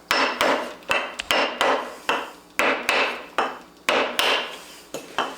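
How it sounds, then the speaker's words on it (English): Steel hammer blows knock a lathe's drive, back gear and spindle back and forth while freeing a stuck belt assembly, about a dozen sharp metallic strikes in an uneven rhythm, each ringing briefly, close and moderately loud with no talking. "I'm knocking the drive and the back gear forward, and then hitting the spindle backwards, and then forward and backwards like this"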